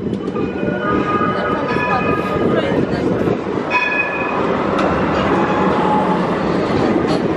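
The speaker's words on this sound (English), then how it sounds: "Okay guys, we are going to take tram." An underground tram in Istanbul rumbles steadily along the rails, with a continuous clattering roar, squeals and a few brief tonal whines throughout.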